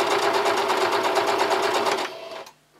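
A sewing machine stitches patchwork fabric in one continuous loud burst of fast, even mechanical clatter, close by, before it stops abruptly and leaves a faint hum.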